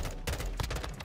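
M16 rifle firing short bursts in Modern Warfare 2, a dense run of sharp gunshots packed into about a second, loud and close with no talk over it.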